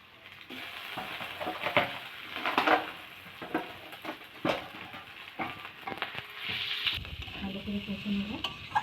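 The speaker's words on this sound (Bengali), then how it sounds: "ভালো করে কষে নেব" Gobindobhog rice and a broken-up fish head frying in a pan for muri ghonto, stirred repeatedly. Scraping and sizzling come close up in an uneven rhythm, with scattered louder clatters of the spoon against the pan.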